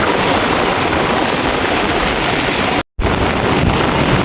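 Strong typhoon wind roars steadily at a coastal port where boats have been pulled up ashore, a loud, continuous broadband rush buffeting the microphone, broken by one brief dropout near the end.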